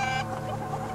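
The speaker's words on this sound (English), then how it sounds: "The roosters you hear" Hens clucking in a brief burst inside an egg farm, a rooster's call cutting off quickly amid a dense barn-like murmur of birds.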